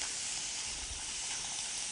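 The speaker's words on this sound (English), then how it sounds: "you're going to get a little more sizzle than you might because we're not taking off a whole lot of the marinade" Marinated duck sizzles in an oiled pan, a dense, continuous crackling hiss that stays loud and steady with no voices.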